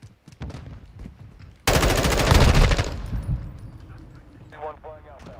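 Rapid automatic gunfire in Call of Duty Modern Warfare II, a dense loud burst of about a second and a half that trails off into scattered shots and game sounds, with talk over the top.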